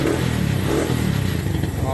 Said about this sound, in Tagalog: So Pops, anong masasabi mo sa tunog ng makina ni Bart?